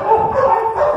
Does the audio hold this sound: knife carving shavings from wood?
no